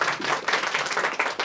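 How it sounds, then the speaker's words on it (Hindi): Brief burst of audience applause at a cinematography workshop, many hands clapping together in a steady, dense patter. "तालियां हो जाए इस बात पे तो यार"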